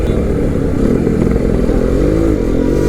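A Suzuki Max 100 two-stroke motorcycle engine runs steadily and loudly up close, with a dense low rumble, a slight rise in revs partway through and some mechanical clatter, and no voices.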